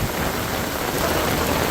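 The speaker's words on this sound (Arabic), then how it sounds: "أمطار غزيرة" Heavy evening downpour with strong winds in Medina, a dense, loud, continuous roar of rain with no voices.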